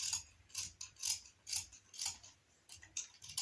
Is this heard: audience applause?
no